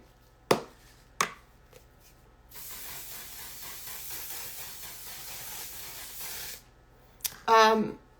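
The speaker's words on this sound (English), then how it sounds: "And then I'm going to set this using, oh my God, the One Size setting spray." A few sharp clicks, then a steady hiss of One Size setting spray lasting several seconds, followed by more clicking and handling noise, close by.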